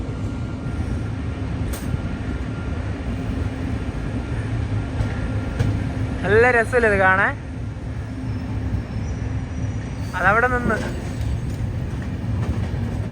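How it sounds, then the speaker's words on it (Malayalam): A train pulled by a WP5 locomotive rolls through New Delhi railway station with a steady low rumble of wheels and carriages, continuous and fairly close, while someone talks over it. "അതിലൂടെ ഒരു ട്രെയിൻ വരുന്നുണ്ട്"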